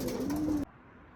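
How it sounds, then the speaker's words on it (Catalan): Pigeons being let out at Olesa give a low, steady cooing. It is close and carries for about half a second, then cuts off abruptly, leaving a quiet background. "deixarem anar els coloms aquí a Olesa"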